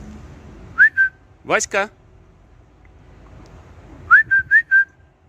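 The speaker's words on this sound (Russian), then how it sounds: "Сейчас вот свистну, позову, и кот придет." Someone whistles to call a cat: two short sharp whistles, then a pause with a spoken shout, then a quick run of four whistles, close and clear.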